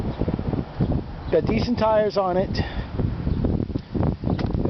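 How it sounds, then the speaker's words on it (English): Wind buffets the microphone outdoors beside a 1989 Ford F-150 pickup, a low rumbling gusty roar that runs continuously under someone talking. "I apologize for the wind. It's windy for some reason"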